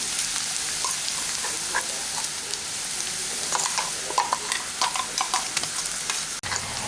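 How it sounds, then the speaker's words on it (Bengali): Red lentil paste goes into a pan of lightly fried onions and sizzles steadily up close, with scattered stirring ticks and spatters building toward the end. "এখন আমি এর মধ্যে এই মুসুর ডালের পেস্টটা দিয়ে দিচ্ছি।"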